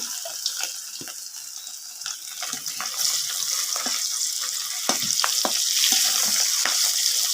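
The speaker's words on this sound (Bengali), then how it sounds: "আজ একটা বাজি মাছ ভাজা হচ্ছে" A fish frying in hot oil gives a dense, hissing sizzle that builds steadily louder, with crackling pops scattered throughout and no voices.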